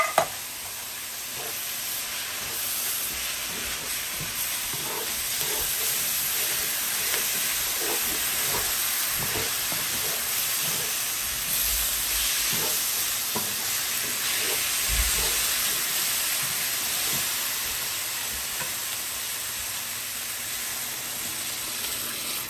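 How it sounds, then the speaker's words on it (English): Fire-roasted diced tomatoes sizzle in a hot pan, a steady broadband hiss running the whole time with faint crackles and small bumps, close and without speech. "now I'm gonna add those fire roasted diced tomatoes"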